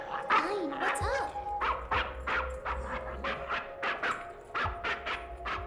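In the anime Cowboy Bebop, a dog barks in short repeated yaps and whines, steady and fairly close, mixed with a sustained tone and low background rumble.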